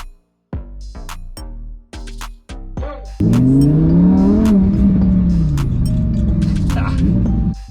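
A Lamborghini sports car gives several short, sharp revs that build into a loud, sustained acceleration with a rising engine roar, heard up close.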